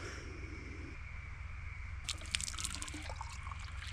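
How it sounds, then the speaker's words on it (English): Warm water pours into a water bottle, a steady liquid trickle that turns into brighter, splashy gurgling partway through as the bottle fills, heard close with no talking. "let's fill our water bottle up with our warm water"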